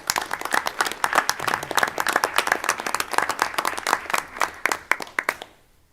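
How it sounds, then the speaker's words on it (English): A small group at a school board meeting claps, the individual hand claps distinct and fairly close, a modest round of applause that tapers off and stops near the end. "Another round of applause."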